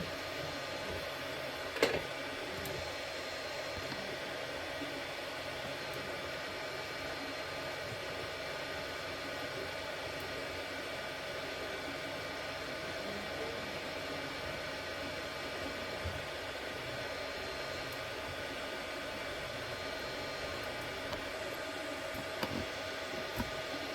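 A Creality Ender 3 V2 3D printer works through a print with a faint, steady whirring drone of fans and motors and a few soft clicks, heard alone for a long stretch.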